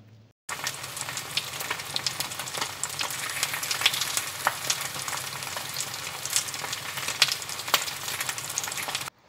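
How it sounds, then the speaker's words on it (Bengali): Palm fruit fritters (taler bora) frying in oil in a wok, a continuous close crackling sizzle with scattered sharp pops, steady throughout after a brief quiet start. "তো কড়াইয়ে তেল দিয়ে দিতে হবে, তেল দিয়ে এক এক করে যে বড়ার সাইজ, সেই বড়ার সাইজে করে ভেজে নিতে হবে"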